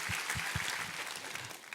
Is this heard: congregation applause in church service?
yes